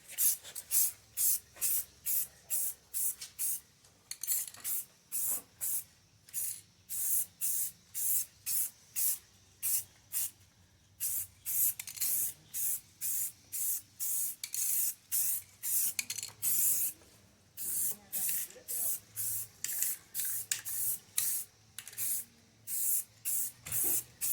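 Paint sprays on in short, rapid hissing bursts as a second coat goes onto the bumper trim of a 2011 Subaru Outback, with brief pauses between passes; close and steady, with no voices.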